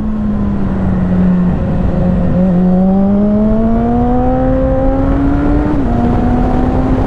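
A 2008 Suzuki Bandit GSF 650 S four-cylinder motorcycle engine drones loudly and steadily while riding, its pitch climbing smoothly through the revs with a brief shift dip, a constant close-up hum and wind noise, no voices.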